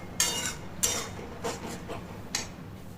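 A spatula stirs and sautés a paneer, curd and pointed gourd curry in a pan, striking the metal in a few sharp, irregularly spaced clinks over a low background hiss.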